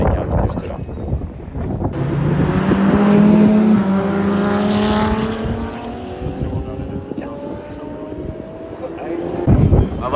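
Several cars pull into a racetrack paddock at a supercar meet, engines rumbling and rising in pitch as they approach under steady wind noise, with people talking nearby.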